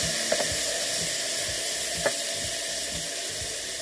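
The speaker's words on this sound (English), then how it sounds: "let that sizzle." Water added to a hot pan sizzles under a lid over a cooking burger, a soft continuous hiss with small pops and crackles, close by and without talk.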